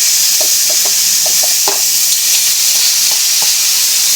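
Salmon frying in hot oil in a pan, a dense steady sizzle and hiss with scattered sharp crackles and pops, close and loud, no talking.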